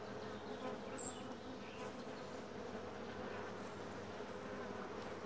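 Dense, steady buzzing of many honeybees crowding a frame lifted from a beehive during an inspection, close and continuous throughout with no voices.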